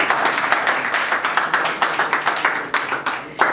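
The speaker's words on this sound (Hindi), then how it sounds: "हम लोग ज़्यादा हैं लेकिन तालियां थोड़ी सी कम है" Clapping from an audience at a Hindi poetry open mic, close and fairly loud, with uneven rhythmic claps from a small group that thin out toward the end.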